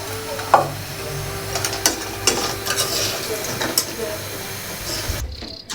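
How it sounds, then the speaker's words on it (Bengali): A pan of fish and pumpkin sizzles steadily while it cooks, with sporadic scrapes and clinks of a stirring utensil against the pan through a continuous hiss, before cutting off abruptly near the end. "দেখুন আমার বাবা কিভাবে কুমড়ার সাথে মাছ রান্না করছে"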